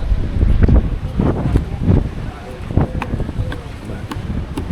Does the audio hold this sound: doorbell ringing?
no